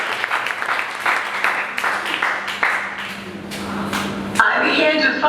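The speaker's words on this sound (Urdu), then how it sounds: "آئے زور تالیاں" A church congregation at a Christian testimony service breaks into loud, dense applause, many hands clapping in a rapid crackling wash that swells and fades unevenly, with a voice speaking over the clapping near the end.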